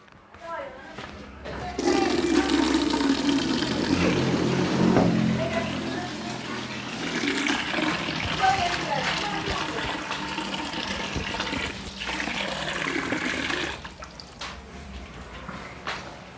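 Water pours into a washing machine tub and runs out through the drain hose, a steady close rush and splash lasting most of the stretch, with a person talking over it.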